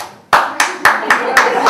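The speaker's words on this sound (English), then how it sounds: "Are you applauding Buddy Holly or me?" Handclaps from an audience at an evening talk: sharp, evenly spaced claps beginning abruptly after a brief silence and repeating about six times in a quick, steady rhythm, close and fairly loud.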